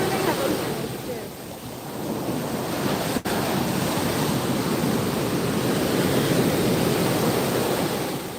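Ocean surf rolls steadily onto Pensacola Beach on the Gulf coast, a continuous broadband wash of breaking waves with wind buffeting the microphone, loud and unbroken apart from one brief click.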